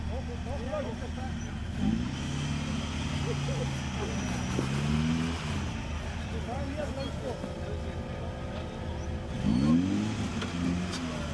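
Off-road 4x4 trucks rev and labour over huge rocks at an extreme off-road event, their engines rising and falling at moderate distance while a commentator talks over them.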